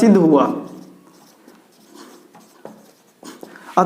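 Pen or chalk writing out a math proof in a Class 10 real-numbers lesson, heard as soft, intermittent scratchy strokes up close after a short burst of voice at the start, with a few sharper taps toward the end.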